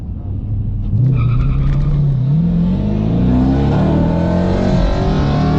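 Dodge Challenger launching on cold tires at a drag strip in a manual-versus-automatic race, loud engine roar climbing in pitch with tire-spin noise, close and continuous.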